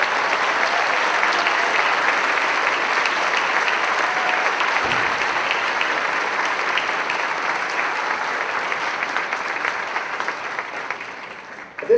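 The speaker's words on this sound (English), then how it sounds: "we would like to give a round of applause to all of our award recipients this evening" An audience applauds award recipients at a senior awards night, sustained, dense clapping that holds steady and then slowly thins toward the end.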